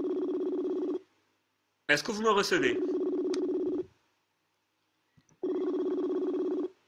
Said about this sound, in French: Vous entendez le téléphone sonner ou pas?